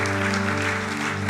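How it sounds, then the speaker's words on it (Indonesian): A church congregation claps steadily in a brief, dense burst, with sustained organ-like music tones underneath. "Berikan tepuk tangan buat Tuhan."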